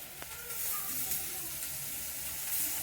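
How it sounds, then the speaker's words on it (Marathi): Onion sautéing in oil in a pan, a soft continuous sizzle and hiss at low level with faint background clatter and no talk. "आपण कांदा परतून अजून भाजतोय"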